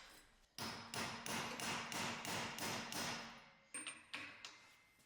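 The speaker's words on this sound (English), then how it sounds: "Place the circular end tightly into a vise and pound out the locking indent on the nut." Rapid series of metal hammer blows pounding out the locking indent on a Toyota Tacoma driveshaft nut held in a vise, about a dozen sharp rhythmic strikes, a short pause, then a few more, close and loud.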